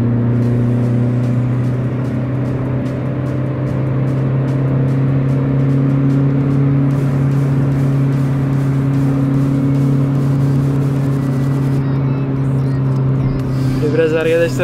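A diesel car engine accelerates, droning steadily with a low, rough hum that rises slightly, close and loud, and a voice briefly speaks near the end.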